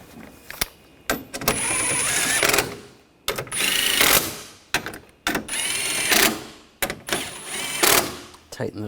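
A power tool drives bolts into the AC condenser of a Buick Encore in four loud whirring bursts, each lasting about a second, separated by short pauses and sharp clicks.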